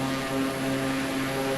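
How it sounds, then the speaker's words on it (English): A steady high whistle from the turbofan engines of an Airbus A320 in Microsoft Flight Simulator rides over a loud, constant engine roar heard from inside the plane, with no talk. "that turbo sound that you can hear inside, that whistle almost."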